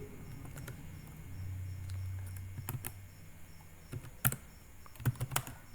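C++ code being typed on a computer keyboard; scattered, quiet key clicks come in small irregular bursts, growing denser toward the end, with a faint background hum.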